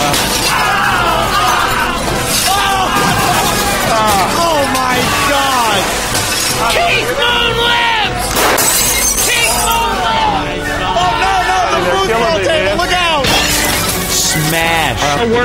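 A Rolling Stones pinball machine is smashed with a big mallet, and bursts of shattering glass and crashing debris repeat across the clip, loud and close, with lively talk and exclamations running over the top.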